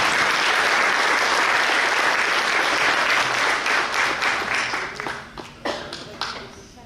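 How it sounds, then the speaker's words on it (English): Applause breaks out in a large audience at a firefighter and emergency communications academy graduation, a dense, loud sustained roar of clapping that thins into scattered individual claps toward the end. "Let's give this a round of applause."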